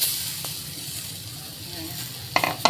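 Pounded ingredients sizzle in a pan while a mung bean dish cooks, a faint steady hiss that ends with a louder burst of sizzling as something is added.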